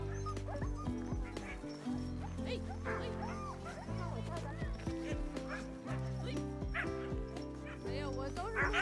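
Alaskan sled dogs bark and yip in short bursts outdoors at a sledding camp, several sharp calls over a bed of music, moderately near, with talk at times.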